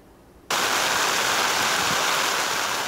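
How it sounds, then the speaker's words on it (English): Muddy floodwater pours steadily into a flooded community street beside a main road, a loud, continuous broadband rush like a waterfall that starts abruptly and holds constant. "As the muddy water keeps pouring in, the main road is almost flooded."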